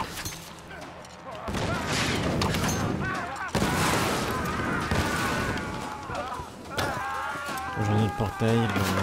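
Gunfire in the Tomb Raider video game: sustained bursts of shots and booming impacts layered over game music and effects, with someone talking excitedly over the action.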